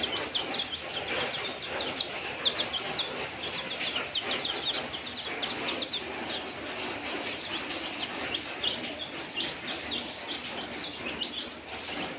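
A dense, continuous chorus of many broiler chicks peeping and chirping close by, with no pauses.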